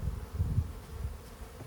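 Honeybees hum in an open hive during an inspection, a low, steady, close buzz with soft swells throughout and no talking.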